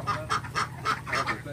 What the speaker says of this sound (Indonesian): Jadi ini bebeknya khusus bebek petelur, guys, bukan bebek potong ya.